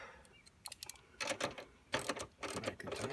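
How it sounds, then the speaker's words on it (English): A wrench ratchets as a 12mm nut is tightened underneath a Hustler Raptor XL mower, giving several short bursts of close, dry metallic clicking separated by brief pauses. "So I'll go ahead and get the 12mm underneath. And I can tighten down this nut."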